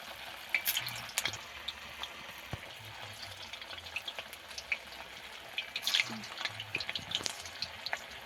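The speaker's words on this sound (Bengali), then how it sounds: "তবে আমি এই মিষ্টিগুলো ভেজে নেব।" Semolina gulab jamun balls deep-fry in oil with a soft, continuous bubbling sizzle, dotted with light clicks and scrapes as they are gently turned.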